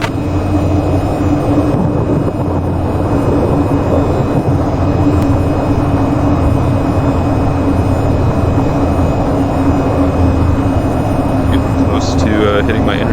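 An aircraft in the VTOL VR flight simulator game approaches to land on a runway, giving a loud, continuous engine and airflow drone with a steady hum throughout.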